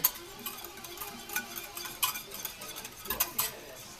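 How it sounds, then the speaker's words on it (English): Hot sauce and a stick of butter whisked together in a pan, giving soft, irregular scraping and clinking strokes that stay fairly quiet and close, with no talking. "Alright, got that all whisked together."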